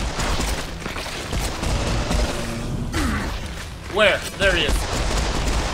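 Pistol fire from Serious Sam 4 crackles in bursts of close shots alongside game effects, with someone talking over the action and a couple of swooping tones near the end.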